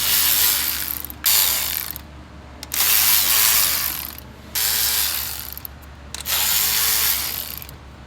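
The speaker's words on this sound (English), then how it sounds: "Pulling the 10s that hold the coil down." A hand ratchet removes the 10 mm nuts holding down the engine's ignition coils during a camshaft replacement, giving four bursts of rapid clicking, each lasting about a second or more with short pauses between, loud and close with no talking.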